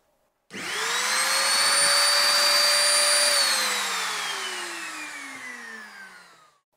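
An electric router switches on with a sharp start, spins up to a loud high whine that holds for a few seconds, then winds down in a long falling tone as it coasts to a stop.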